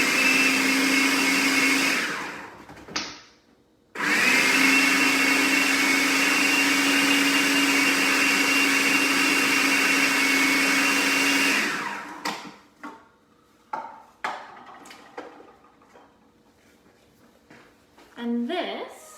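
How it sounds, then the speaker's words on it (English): A blender runs loudly on a sun-dried tomato bean burger mixture in two bursts, one short and one long, with a brief stop between them. Afterwards come clattering kitchen sounds and a few spoken words. "So the only thing left to do now is to blend everything"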